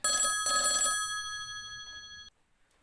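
An old-style telephone bell rings in two quick bursts, then a sustained ring trails off and cuts abruptly, loud and close in a quiet room.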